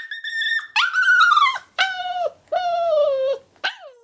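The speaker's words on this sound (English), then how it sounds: "he's in his crate, and this is the noise he's making." An eight-week-old puppy shut in its crate whines and howls in long, high, wavering cries separated by short pauses, loud and close with no other sound around it.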